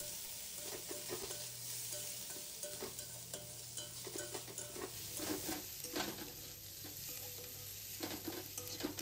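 Onion, garlic, ginger and green chilli stir-frying in a pan for prawn chops, a quiet, steady sizzle with soft intermittent scrapes of stirring, fairly faint throughout.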